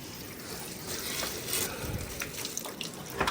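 Water pours steadily into a clogged outdoor drain pipe, a continuous rushing splash at close range with small surges, no talking.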